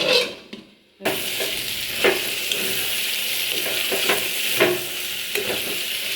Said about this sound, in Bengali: এখন আলু দেখি ভাজি করতে করতে কতগুলো করে ফেলাইছি